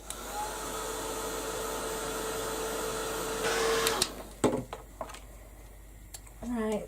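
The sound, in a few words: dryer drying a craft journal page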